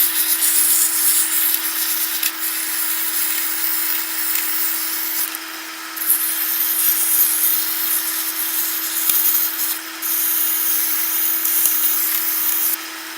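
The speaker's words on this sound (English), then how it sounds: "Okay, next I'm going to do some sanding." Turned wood being sanded on a lathe at low speed with sandpaper through fine grits, a continuous close rubbing hiss over a steady motor hum, with brief changes in pressure.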